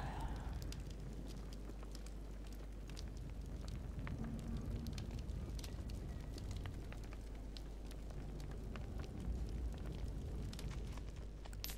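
A campfire burns in the video game Don't Die Minerva, giving a steady soft crackle with scattered sharp pops over a low rumbling bed throughout.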